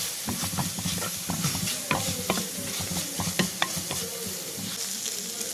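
Shallots and curry leaves sizzle in a frying pan beside fish roe cooked Kerala style, a close, steady crackle with frequent scraping stirs of a spatula and no voices.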